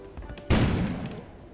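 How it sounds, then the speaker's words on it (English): A single loud boom bursts suddenly after a quiet moment in the video game Kona, then rumbles and fades over about a second. "An explosion suddenly"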